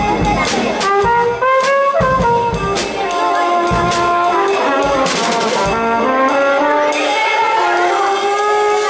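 A flugelhorn, the darker-toned valved relative of the trumpet, plays a mellow melodic line in a school music setting, steady and fairly loud with other instruments or sounds mixed in.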